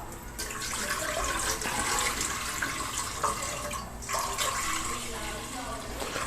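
Milk poured into a pot of black beans for a coconut-milk jelly dessert, a steady liquid splashing and trickling rush that runs continuously, fairly close and under a soft background hum.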